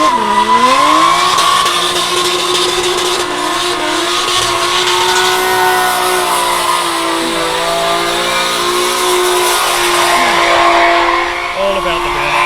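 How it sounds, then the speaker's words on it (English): Drift cars at Meremere in a top-32 battle competition roar through burnouts, engines revving hard and steadily with tire squeal layered over the loud continuous din, while a commentator's voice runs underneath. "All about the burnouts."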